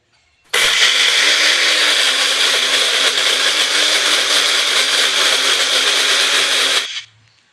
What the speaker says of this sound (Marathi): झाकण लावून मिक्सरला फिरवून घ्यायचं